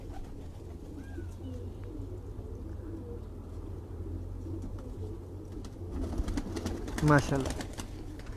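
Pigeons of fine breed coo steadily in a home loft in Quetta, a low murmuring under a voice, which grows louder near the end.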